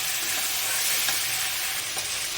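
Potatoes with turmeric, coriander, chili powder and ginger paste frying in a pan for a cabbage curry, giving a steady, close, dense sizzle throughout with no talking.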